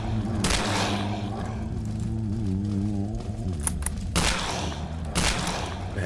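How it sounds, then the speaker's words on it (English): Shotgun firing in the 2D video game Dead Frontier 2D: a few sharp, loud blasts spaced seconds apart, heard over a steady low droning background. "Man, the shotgun is so inconsistent"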